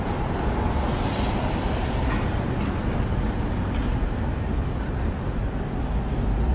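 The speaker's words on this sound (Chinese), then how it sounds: "你看这种老式的有轨电车" An old-style tram passing along a city street in a European town, a steady rumbling roll blending with broad traffic noise throughout, close and continuous without clear speech.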